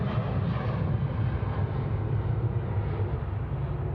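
Qantas 421 airliner at Sydney Airport preparing to depart on the runway, a steady loud jet engine roar with heavy low rumble holding constant throughout, no talk.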